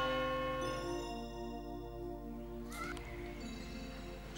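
Church bells of St. Bartholomäus in Porz am Rhein ringing from a distance, sustained overlapping tones hanging in the air, with a brief louder disturbance nearby midway.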